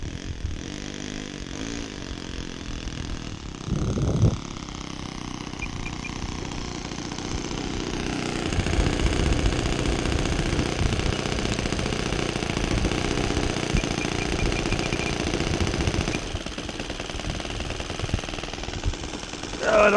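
A small OS 26 FS four-stroke glow engine on a little yellow model sport plane runs steadily and fairly rich, a loud continuous drone up close that rises slightly in the middle stretch, with no talking over it.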